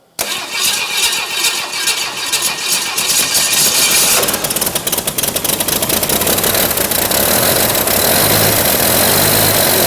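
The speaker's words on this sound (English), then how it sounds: "This is, of course, to turn the ignition on, give power to the coil." A car engine on an Easy Run engine test stand cranks over with ignition and coil powered, catches, then settles into a loud, steady running roar close by, without speech.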